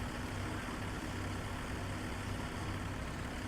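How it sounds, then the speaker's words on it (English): Small tractor engine running steadily in Farming Simulator 17, a low constant idling rumble with faint harmonic hum, moderately quiet and unchanging throughout, no speech. "This tractor might be a little too small for this."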